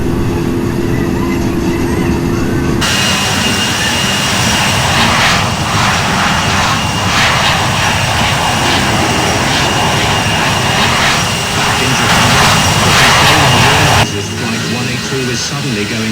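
Airliner jet engines in the flight simulator Infinite Flight roar loudly and steadily, with a constant whine and rumble that swells after a quieter start and drops back near the end.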